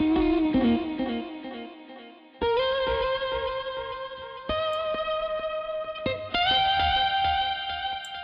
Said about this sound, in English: was put it through Amp Designer and then an echo as well